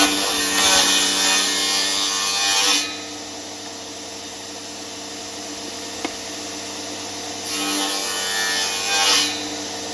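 A saw cuts a groove into wood for an arcade cabinet restoration, with two loud, steady cutting passes separated by a stretch of quieter machine hum, all close and without speech.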